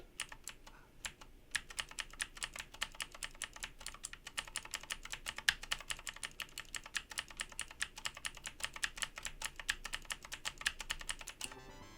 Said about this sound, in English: New keyboard. It's really clicky.